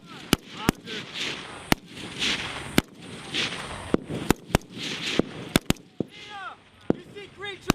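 Live machine gun fire from a US Marines heavy weapons exercise, firing tracers: sharp, loud bursts and single cracks spread irregularly through the clip, with shouting voices and field noise between the shots.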